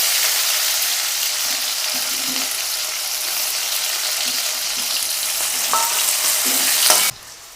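A potato slice fries in a pan of hot oil, with green chillies already roasted in it, while sabudana khichdi is cooked. A steady, close, loud sizzle runs throughout, with a few faint clinks, then cuts off abruptly near the end.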